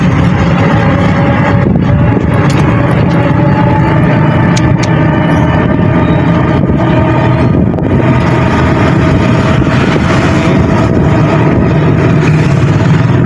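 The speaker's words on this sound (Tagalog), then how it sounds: "Dito dumadaan ang mga bus. Yan, mga malalaking mga sasakyan." Buses and other large vehicles pass through a road junction with a continuous loud engine rumble and road noise, heavy traffic droning throughout without a break.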